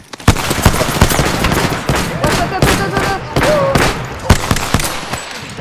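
Gunfire rattles through a round of the Apex Legends video game, with sharp repeated shots and short bursts in an uneven rhythm, loud and close, while players talk.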